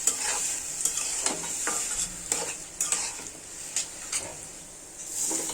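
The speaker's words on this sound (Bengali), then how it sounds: "ডালটা কিন্তু ভালোভাবে কষিয়ে নিতে হবে, তাতে অর্ধেকটা সিদ্ধ হয়ে যাবে ডাল।" Masoor lentils stirred and fried in a pan for a dal with jute leaves, a bright sizzle under a run of scraping spoon strokes and light metal clinks, close and unaccompanied by talk.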